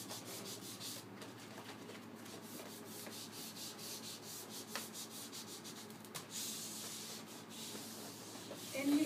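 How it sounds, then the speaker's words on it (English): A ski is waxed by hand with a cake of race wax, no heat, giving continuous soft scraping rubs in an uneven back-and-forth rhythm, close and moderately loud with occasional sharper scuffs. "take and rub on a layer of wax and just get the ski coated nice and even"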